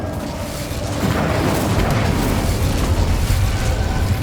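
Incendio fire spell cast in Hogwarts Legacy, a deep booming burst that swells after a moment into a sustained, loud roaring rumble, as if flames erupting, with no talk over it.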